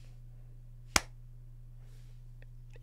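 A single sharp hand clap, made as an audio delay test, rings out close and alone at about one second over a steady low electrical hum, followed by faint clicks.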